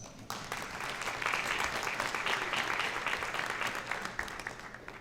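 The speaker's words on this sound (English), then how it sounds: "round of applause" Attendees at a school board and community meeting on lead testing applaud a local representative, clapping that swells in quickly after a moment of quiet, stays steady, and tapers slightly at the end.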